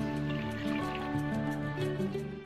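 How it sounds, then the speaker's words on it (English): Water poured into a cooking pot of spiced tomatoes, a close, continuous liquid splashing and sizzling over a low hum. "then add the water"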